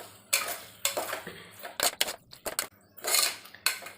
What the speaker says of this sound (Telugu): ఇప్పుడు మటన్ వేసుకొని మనం మొత్తం ఒకసారి కలుపుకుందాం. మటన్ని కూడా ఆయిల్లో ఒక 5 minutes మగ్గనిద్దాం.